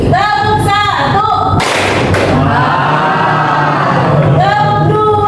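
A classroom of students claps together on cue, a single sharp burst of clapping between a teacher's chanted counts, loud and close in a lively room.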